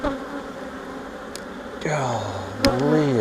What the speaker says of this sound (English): there's a bunch of bees in this hive.